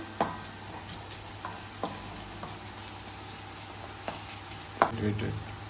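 Chicken ghee roast masala stirred in a pan, a spoon scraping in a few sharp, scattered clacks over a low, steady sizzle with faint background hum.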